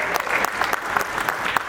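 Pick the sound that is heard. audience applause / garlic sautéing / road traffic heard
audience applause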